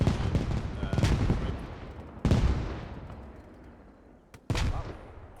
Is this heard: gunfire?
yes